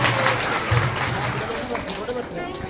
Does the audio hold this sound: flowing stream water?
no